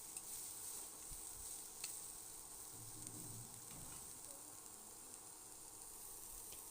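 Chopped onion, chili and garlic frying in a pan after small local fish were removed, giving a steady soft sizzle with occasional stirring scrapes, fairly quiet and without talk.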